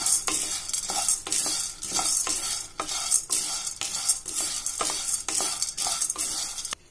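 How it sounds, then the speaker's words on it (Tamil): Roasted gram (pottukadalai) is stirred briskly in a dry pan for a light roast, a steady scraping and rattling of hard pulses against metal with regular spoon strokes, close and alone. "போட்டு கொஞ்ச நேரம் வறுத்தா போதும் ரொம்ப வறுக்க வேணாம் லைட்டாக வறுத்தா போதும்"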